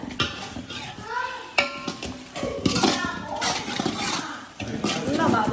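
Rooster gravy sizzles and frays in a pan while a spoon scrapes and stirs in irregular strokes, clinking against the metal, with people talking nearby over the cooking.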